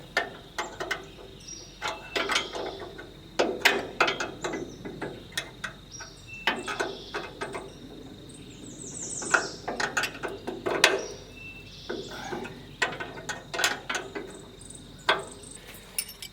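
Ratcheting wrench work on bolts on a Wood-Mizer LX25 sawmill head, heard as repeated clicking bursts and metallic mechanism sounds in steady clusters, close and moderately loud, with no talking.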